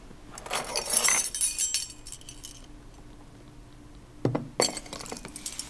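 A teaspoon of vinegar hits half a teaspoon of baking soda dissolved in warm water, giving a bright crackling fizz with glassy clinks. It swells, fades to quiet, then bursts briefly again.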